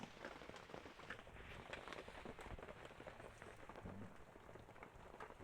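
Steady rain falls across the whole stretch, a dense even patter on surfaces close by, with a faint voice or two murmuring now and then beneath it.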